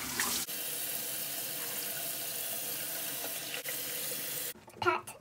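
Tap water runs steadily into a sink while a face is washed with facial bar soap, a loud continuous hiss that stops abruptly near the end, followed by brief splashing.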